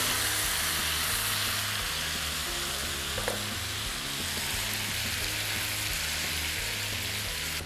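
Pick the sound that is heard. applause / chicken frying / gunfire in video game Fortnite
chicken frying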